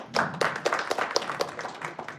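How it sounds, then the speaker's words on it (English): Scattered clapping from a small Toastmasters meeting audience greeting the timer, distinct individual claps in an uneven patter that stays fairly light and close. "Toastmaster Rashid Hussein, a big round of applause."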